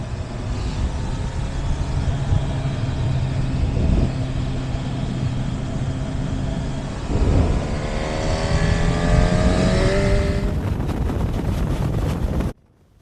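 Honda CB1000 Hornet motorcycle riding on the road, a steady engine drone under heavy wind rush, then rising revs as the bike accelerates through gears before cutting off abruptly.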